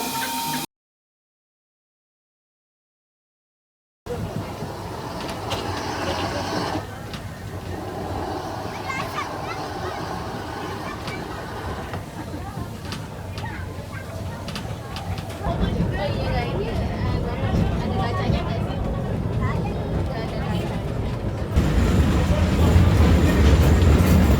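The Jaladara steam tourist train rumbles and clatters at a station in Solo, Indonesia, while a loudspeaker announcement and voices carry over it, the rolling noise building louder as it pulls away.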